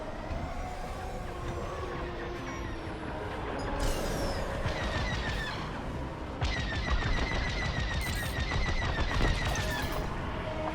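Starfighter blaster fire in Star Wars: Squadrons, dense rapid bursts of shots over a constant roaring engine hum, growing louder and busier partway through.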